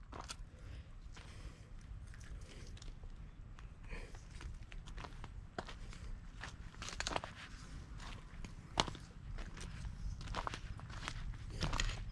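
Footsteps walking along a path through a rural village, a steady run of close crunching steps with occasional louder scuffs, no talking.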